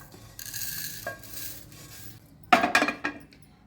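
Pickle spices and salt are heated and stirred in a hot pan, with faint scraping and then a short burst of clinking and scraping, close and quiet with no talk.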